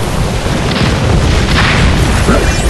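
An explosion attack in the Naruto Online video game unleashes a loud, continuous roar of blasts, a dense, churning boom that stays heavy throughout with faint swells on top.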